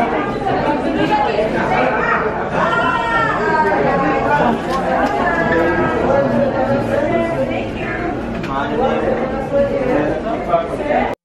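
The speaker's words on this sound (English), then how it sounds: "you can see it is overcrowded and really noisy" Dense crowd chatter fills an overcrowded sunset viewpoint at the Burj Khalifa in Dubai, many overlapping voices blending into a loud, steady din with no single speaker standing out.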